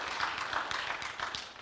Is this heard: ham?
no